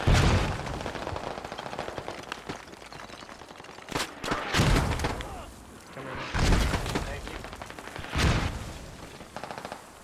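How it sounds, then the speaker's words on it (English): Incoming mortar rounds land in the Squad military shooter, several heavy booming impacts spaced a couple of seconds apart over constant crackling gunfire, with players talking over the battle. "Mortar's coming in"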